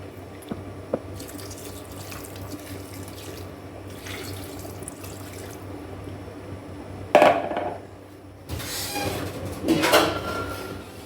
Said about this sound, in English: so I'll just add little water because there is no, I will not be using the water for anything